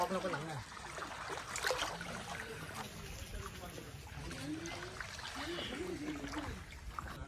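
Water poured out and splashing in a steady trickle during an outdoor cooking party, with people talking loudly over it throughout.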